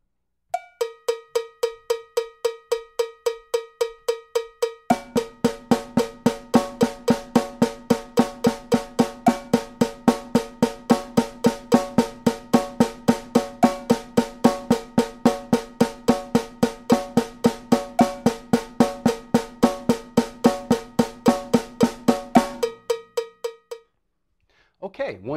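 A slow, steady drum pattern played in groups of three, a constant stream of bright, ringing, cowbell-like strokes with a fuller layer entering after a few seconds and dropping out near the end.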